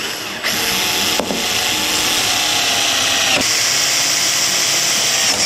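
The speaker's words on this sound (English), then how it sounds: "Then we'll just go ahead and pre-drill for our mounting screws along the top track." A power drill bores pilot holes for mounting screws along the top track of a wooden tablesaw crosscut sled, whirring steadily and loudly at close range with brief changes in pitch as it bites in.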